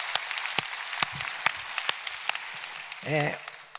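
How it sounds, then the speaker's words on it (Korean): Sparse, scattered clapping from a church congregation giving thanks to God at a Sunday service, a few distinct claps at moderate distance, with a short voice near the end. "우리에게 자유를 주신 하나님께 박수로 감사하겠습니다"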